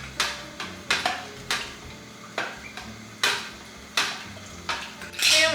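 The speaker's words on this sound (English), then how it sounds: "I'm gonna give everything a stir" A metal spoon stirring homemade lemonade clinks sharply against the container about ten times at an uneven pace, close and clear with no talking.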